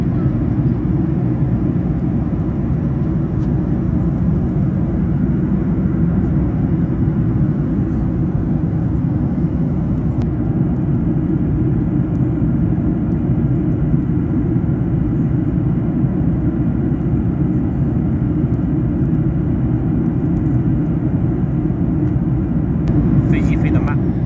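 Inside an airplane cabin in flight, a loud, unbroken low engine and air drone fills the background while a voice speaks over it.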